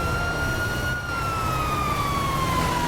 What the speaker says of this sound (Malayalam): ആംബുലൻസ് ഉണ്ടല്ലോ കാണുന്നില്ലേ?